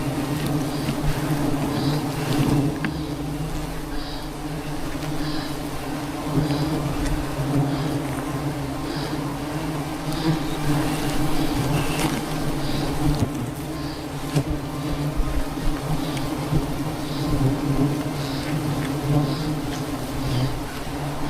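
Thousands of honey bees swarm during a honey hunt high on a cliff, a continuous, dense buzzing drone that stays loud and steady throughout, with faint wind noise underneath.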